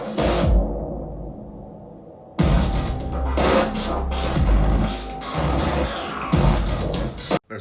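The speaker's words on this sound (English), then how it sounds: "Here's all the drums put together now with a little bass and a little bit of a pad" Layered electronic drums with modular kick, snare, a little bass and a soft pad play a steady repeating groove, dense and fairly loud after a brief opening hit and pause, with no talking.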